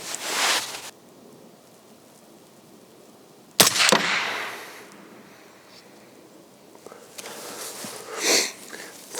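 Two sharp 22 ARC rifle shots from a custom AR build firing Hornady 62 grain ELD VT match ammunition crack out, spaced a few seconds apart and each followed by a brief ringing decay, with a softer burst of noise near the end.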